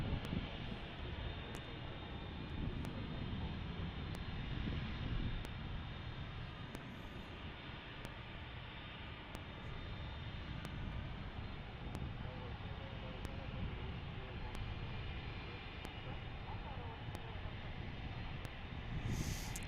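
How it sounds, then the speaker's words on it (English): A UPS MD-11 being pushed back at DFW airport gives a steady, distant engine drone and rushing noise that holds throughout at a low level, with faint outdoor wind. "UPS is pushing back an MD-11 that'll come into our screen shortly"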